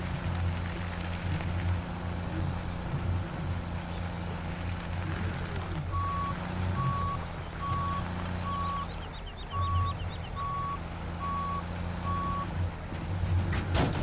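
A truck in Farming Simulator 17 reverses to hook up a trailer, with a steady, evenly spaced reversing beep repeating about eight times over a continuous low engine rumble.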